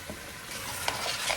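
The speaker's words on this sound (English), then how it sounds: "now we can put in some of the fish sauce" Fish sauce poured into a hot pot of ginger chicken soup, giving a brief, close sizzle and bubbling with a few small splashes.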